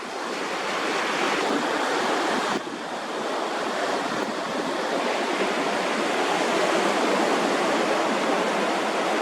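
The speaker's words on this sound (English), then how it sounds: "We've got a tropical storm that has made some big waves." Big ocean waves whipped up by a tropical storm pound the shore near Myrtle Beach, a loud, steady roar of surf with wind buffeting throughout.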